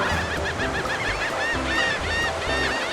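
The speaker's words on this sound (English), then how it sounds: "Laughing gull." A laughing gull gives loud, repeated nasal calls in a rising and falling series, over a constant wash of surf and other birds.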